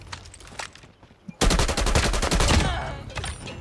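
A TEC-9 fired in full-auto mode in a video game: quiet scattered in-game sounds, then a sudden loud rapid burst of gunfire lasting about two seconds that trails off into fainter shots.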